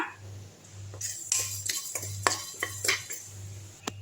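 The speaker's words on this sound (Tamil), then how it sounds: "இப்போது இந்த கடுகு, வெந்தயம், சீரகம் 3த்தையும் இதில் போட்டுக்கலாம். கருவேப்பிலையும் போட்டுக்கலாம். இப்போ நல்லா தீயாமல் பொரிய விட்டுருங்க" Mustard seeds, fenugreek, cumin and curry leaves in a kadai, heard as a spoon scraping and clinking against the metal pan in quick irregular strokes over a low steady hum.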